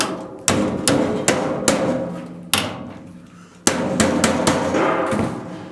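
Hammer blows on sheet metal HVAC ductwork at an S cleat joint, about ten sharp ringing strikes in uneven bursts, close and loud with metallic decay between hits.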